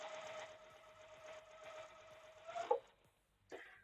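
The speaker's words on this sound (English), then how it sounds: "I have a new sewing machine." A new sewing machine stitches quilt pieces for a framed pinwheel block, producing a quiet, even whirring hum for over two seconds that ends with a small clack, then a brief soft rustle.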